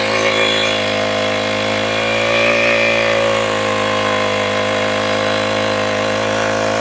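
A new engine-driven machine for cutting green fodder for horses runs continuously close by, its loud, steady engine drone sounding alone and without pause.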